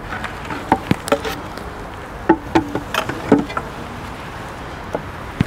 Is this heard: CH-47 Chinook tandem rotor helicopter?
no